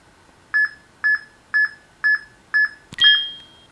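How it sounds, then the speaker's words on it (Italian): Ion Timer beeps used for Pokémon RNG timing: five short, evenly spaced electronic beeps about half a second apart, then a louder final tone that rings out and fades. "guidandovi sempre con il suono dell'Ion Timer"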